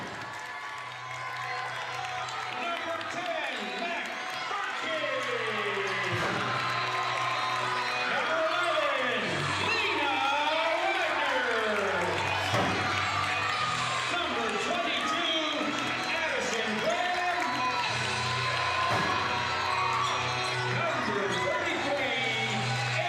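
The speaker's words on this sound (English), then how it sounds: "That home crowd come alive as they meet at center court." A home crowd cheers and rumbles through a girls basketball game between Franklin Heights and Buckeye Valley, with steady gym noise, voices and sneaker squeaks and ball bounces on the court throughout.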